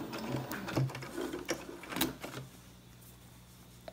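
A sewing machine stitches a washable fabric filter face mask in a few quick, whirring bursts, then falls quiet for the last stretch.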